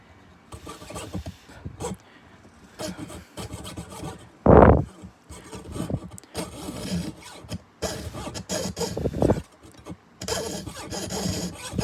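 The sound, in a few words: cutting pearl letter inlay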